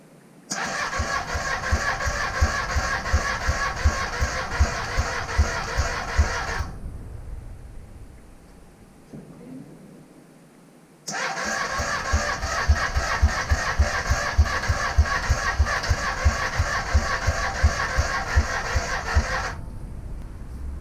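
An old Honda motorcycle that has sat unused for years being cranked with the choke fully out, two long loud bursts of a rapid electric starter churning, separated by a quiet pause, without the engine catching.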